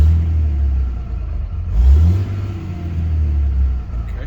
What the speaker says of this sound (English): I just started the truck a minute ago.